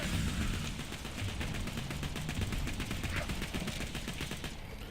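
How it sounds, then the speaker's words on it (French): Rapid gunfire from a gun in Borderlands 2, a steady stream of shots in a regular rhythm, fairly quiet and continuous for several seconds. "Ah, c'est que ça tire lent, ton gun"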